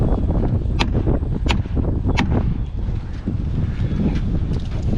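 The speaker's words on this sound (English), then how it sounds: "Man, it's a little breezy for my liking." Wind gusts across an outdoor timber frame house build, a dense, continuous low roar battering the microphone, with a few sharp knocks or taps standing out near the start.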